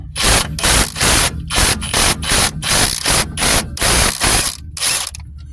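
An impact gun works a rear hub bearing bolt on a 2006 Dodge Grand Caravan in about a dozen loud, close, rattling bursts separated by short gaps.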